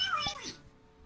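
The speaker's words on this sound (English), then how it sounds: "Fucking cat." A house cat gives a single short meow, close and fairly loud, rising then fading quickly against a quiet indoor background.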